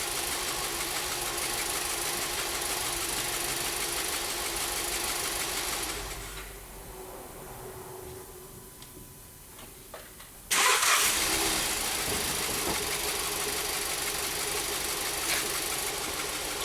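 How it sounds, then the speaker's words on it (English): A 2014 Jetta with a misfire fault runs at idle, goes quiet when shut off, then restarts with a sharp burst and settles back into a steady close idle hum. "Let me restart the car."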